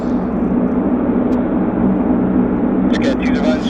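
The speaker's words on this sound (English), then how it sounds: "Got another aircraft on approach." An airliner on approach at Vancouver airport, a loud continuous jet roar and rumble holding steady, with faint clicks near the end.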